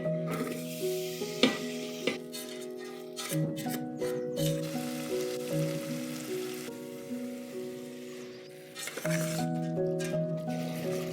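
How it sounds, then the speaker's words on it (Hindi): Onion, tomato, chili, cumin and grated ginger sizzle in hot ghee in a pressure cooker on sauté mode, a soft continuous crackle beneath sustained musical tones. "सॉटे मोड में घी गरम हो गया है, जीरा, जिंजर ग्रेट कर लिया है, अनियन, टमाटर और मिर्ची, सारा कुछ मैं एक साथ ही ऐड कर रही हूँ"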